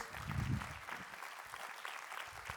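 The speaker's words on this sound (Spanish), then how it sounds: "dale un fuerte aplauso a Dios" Congregation in a church service applauding together, a fairly faint, dense patter of clapping with some low rumble early on, steady through the short stretch.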